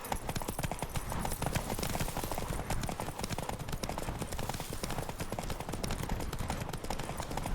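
A horse gallops flat out in a race in The Witcher 3, rapid continuous hoofbeats pounding at a steady driving rhythm throughout, close and even in loudness.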